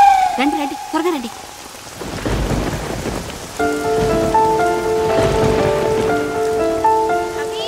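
Heavy rain pours down in a steady, loud wash, joined after a few seconds by background music, with a brief vocal sound at the very start.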